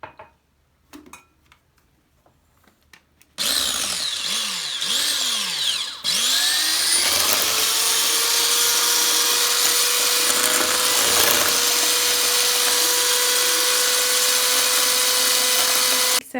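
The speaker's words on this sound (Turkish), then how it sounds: "Dört adet yumurta sarısını bir su bardağı toz şekerle güzelce çırpalım." Electric mixer whisking four egg yolks with sugar for a sponge cake: a few soft taps, then the motor kicks in loud, its whine swooping through speed changes before settling into a steady, sustained high buzz.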